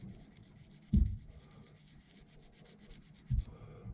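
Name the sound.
sanding pad rubbing Godhand cutters to clean them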